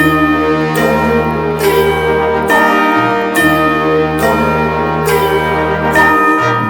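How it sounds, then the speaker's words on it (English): Church-style bells ring in a steady sequence of loud, resonant strikes roughly every second, each ringing on with long overlapping tones and no voices. "them bells are playing loud and clear"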